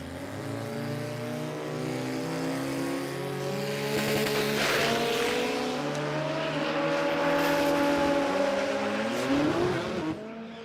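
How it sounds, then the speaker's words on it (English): Drag cars launch and scream down the strip during a second-round Street class race, loud revving engines rising in pitch as they accelerate, sustained roar over about ten seconds with no talking. "We've got ourselves a drag race."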